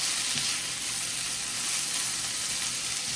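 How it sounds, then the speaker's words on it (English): Chicken sautéing in a pan for jerk chicken pasta gives a steady, close broadband sizzle that holds evenly throughout with no talk over it. "Just get the color, saute it up."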